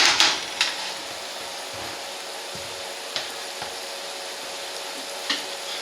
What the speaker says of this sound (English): that onion, carrot, and garlic has been cooking down nicely